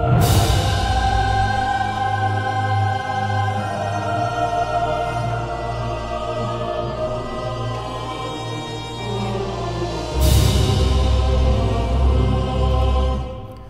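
Full orchestral passage with thin, reedy sampled bagpipes playing drone and melody over sustained strings and low brass, swelling louder near the end.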